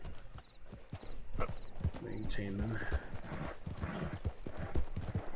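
Horse hooves clip-clop over rocky ground in a video game, a steady run of light knocks heard throughout under near, continuous talking.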